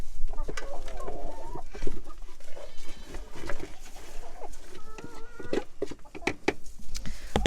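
A flock of backyard chickens clucks and squawks close by in a busy, continuous chatter, and goat-like bleats mix in among the birds.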